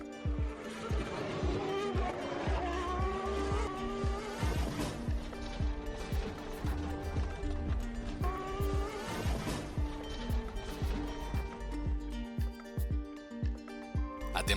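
Formula 1 car of Rubens Barrichello losing control during the 1994 Imola race, heard as a replay broadcast: dense engine roar with tire squeal and skidding, steady and loud throughout, with some commentary voices underneath.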